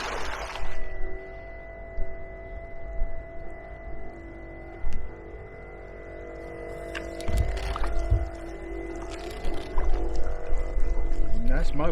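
A Hiqmar EP18Li electric outboard motor drives a boat across water, giving a steady whine with tonal hum over lapping water and wind, moderately close and continuous.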